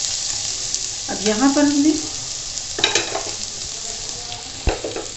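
Onions stir-fried in a hot non-stick pan while making Hakka noodles, a steady close sizzle with stirring scrapes under brief talk.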